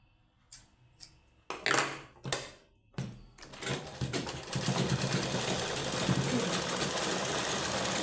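A sewing machine stitches a seam on an old sweater being turned into socks. A few sharp isolated clacks come first, then the machine settles into a steady, continuous rapid rattle, close and fairly loud.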